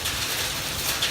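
Hail falling during a Saturday evening thunderstorm at a resupply stop in Tehachapi, a dense steady patter of hard pellets striking surfaces nearby, continuous and fairly close with no voices.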